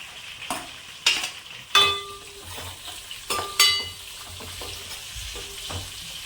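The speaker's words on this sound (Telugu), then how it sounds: "ఇప్పుడు చక్కగా పచ్చిమిరపకాయలు వేస్తున్నాను" Green chillies frying in oil for a ridge gourd curry, a soft sizzle broken by several bright metallic clinks and scrapes of a ladle against the pan, close up with no speech.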